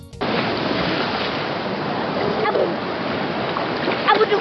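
Sea water washing into a clear rock pool on the coast at Grand-Béréby, a steady broad rushing and splashing that holds close and fairly loud throughout, with faint voices near the end.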